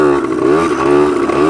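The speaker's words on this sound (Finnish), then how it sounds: "se on eka talvi, kun ajan mopolla" A moped engine is ridden in winter. The note is loud and close, rising and falling in pitch through a short burst.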